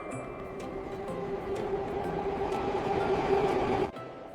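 Inside a Russian metro station, a train rumbles past at a steady roar that swells and then cuts off, with a faint rhythmic clatter and reverberant ambience.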